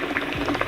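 A Shishabucks Cloud Mini V2 hookah bubbling as someone takes a pull, a short burst of close, rapid gurgling water.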